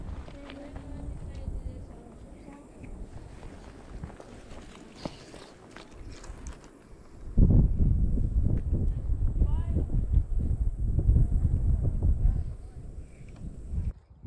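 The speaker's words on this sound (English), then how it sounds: "It's windy again." Wind gusts at a bass pond, buffeting and rumbling against the microphone, loud and close. A faint background stretch gives way to strong, sustained blasts partway through, and a voice talks briefly.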